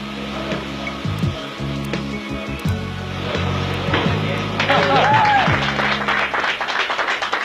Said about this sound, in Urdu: نئی نسل کے نوجوانوں کے بیچ کھڑے ہو کر خوشی سے تالیاں بجائیں